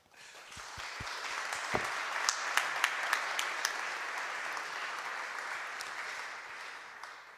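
A crowd applauds warmly for several seconds at a 2017 New Year's address in Lorient, France, a dense, steady patter of clapping with a few sharper individual claps standing out.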